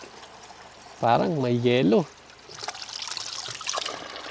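Spring water trickles from rock and splashes steadily in the background, close by, after a brief stretch of speech, in Benguet, Philippines.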